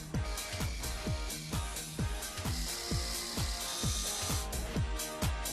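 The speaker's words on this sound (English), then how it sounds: "Tack shaver gives you a quick, razor smooth shave" A Tac Shaver rotary electric shaver with multiple rotary heads cuts through coarse stubble, giving a steady buzzing drone broken by rapid, regular clicking rasps, close and moderately loud with no talking.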